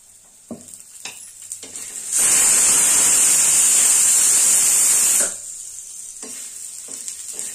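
Chickpeas roasting in a pan with about half a spoon of oil: quiet scraping stirs, then a loud bright sizzle bursts up for about three seconds before dying back to soft stirring.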